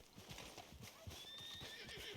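A horse in a video game clip-clops along in a quick, steady hoof rhythm, with a faint high whinny partway through, heard at low volume.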